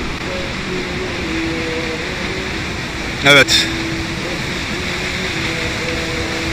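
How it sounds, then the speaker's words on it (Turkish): A waterfall on the Kayaldere stream pours out a steady, broadband rushing roar that never lets up, with a brief spoken word cutting in partway through. "şelale."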